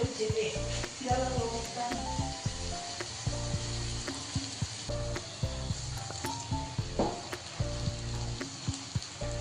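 Cauliflower, eggplant, ridge gourd and chillies frying in a pan for oats khichdi, with a steady loud sizzle throughout and occasional stirring clatters.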